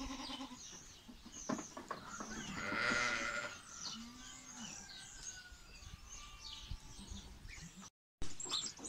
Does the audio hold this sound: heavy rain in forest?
no